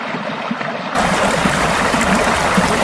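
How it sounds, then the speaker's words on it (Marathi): Water flows steadily in an animated story, the stream rushing in abruptly after a quiet start and then continuing as a constant gurgling wash with no voices over it. "त्या पाण्याचा आवाज का एवढा भयानक वाटतोय?"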